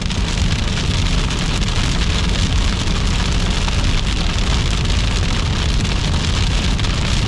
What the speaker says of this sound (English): This is just pebble-sized hail, nothing that I'm real worried about.